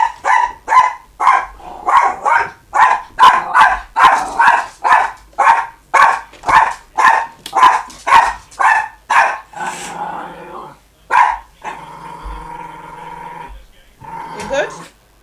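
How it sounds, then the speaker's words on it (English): A dog barks in a rapid, regular run of loud close barks, then growls and gives a few scattered yaps toward the end, with a person briefly speaking over it. "Dog."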